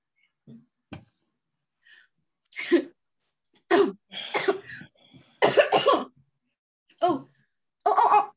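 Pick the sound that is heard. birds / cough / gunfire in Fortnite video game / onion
cough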